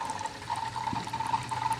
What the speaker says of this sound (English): I have water running right now just so I can show you what's happening.